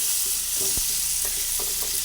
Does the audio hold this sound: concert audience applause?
no